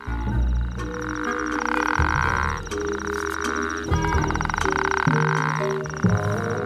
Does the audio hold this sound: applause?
no